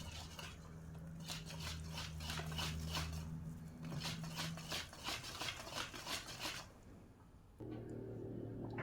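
A spoon stirs cocoa cake batter in a bowl, giving steady, rhythmic scraping strokes that repeat close by for several seconds before easing off, with no talking.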